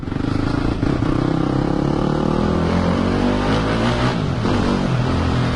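A Yamaha 250 YZF motocross bike runs loud and close, its engine droning and revving steadily for the whole stretch with a rough, buzzing tone.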